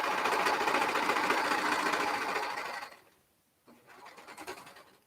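A sewing machine stitches slowly over bulky organic cotton knit seams with a close, continuous rapid whirring chatter. It stops abruptly, and a few quieter handling noises follow.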